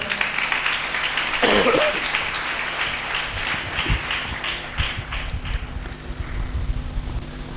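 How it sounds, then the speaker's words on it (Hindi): A church congregation claps for a brother, a dense burst of applause that swells briefly and fades into scattered claps, with a cough and some murmuring voices around it. "क्यों ना उस भाई के लिए थोड़ा ताली बजा दें हम।"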